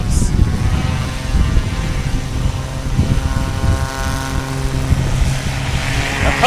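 A STOL competition aircraft with a 400 horsepower engine at an airfield event, giving a loud, steady propeller drone with rising harmonic tones, sustained throughout; faint voices can be heard beneath the engine.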